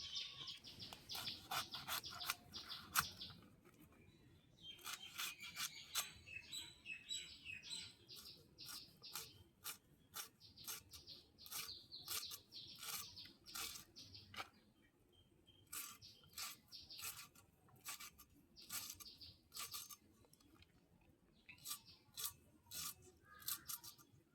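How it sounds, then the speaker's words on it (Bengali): A knife slices through cabbage in quick, crisp strokes that come in rapid bursts with brief pauses, quiet and close, with no talking. "এবার বাঁধাকপিটা কেটে নেই"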